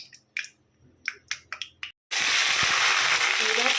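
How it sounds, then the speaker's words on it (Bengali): Cumin seeds dropped into hot cooking oil for a Bangladeshi chola buna (chickpea curry) burst into a loud, steady sizzle after a few short clinks and taps, the frying hiss running continuously to the end. "এখন তেল তেল গরম হয়ে আসলে জিরা দিয়ে দিচ্ছি"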